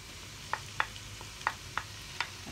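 Chicken pieces frying in a pan with leek: a soft, steady sizzle under a handful of sharp utensil clicks against the pan at irregular intervals, close by, with no talking.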